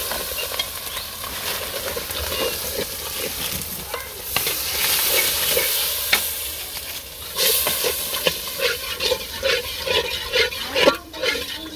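Fish coated in turmeric, chilli and salt sizzles steadily in a hot pan on a village stove, with close scraping stirs and spatula knocks breaking through the constant hiss.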